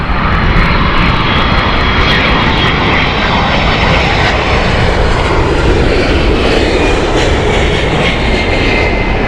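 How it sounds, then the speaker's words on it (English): A United Airlines Boeing 767-300 on flight 938 comes in at Heathrow in a crosswind, its jet engines giving a loud, continuous, close roar that fills the whole stretch without any talk. "a little bit of a crosswind for the United 938 flight, operated by the 767-300"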